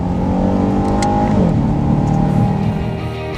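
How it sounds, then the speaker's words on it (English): A 2015 Chevy SS sedan accelerates hard, its engine rising in a loud, close, steady roar with a pitch shift as the transmission shifts, and nobody talking. "it accelerates quickly, and the transmission goes from barely noticeable when cruising to appropriately urgent in sport and manual modes"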